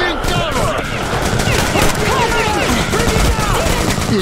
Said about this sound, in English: It heard the shots.